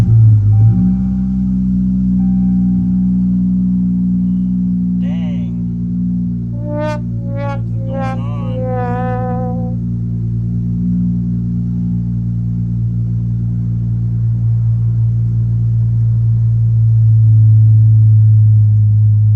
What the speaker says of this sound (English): Let's go ahead and try to start the car.